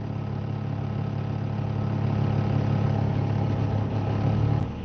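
A truck engine idles steadily and close, a constant low rumble that holds evenly throughout with no voices over it.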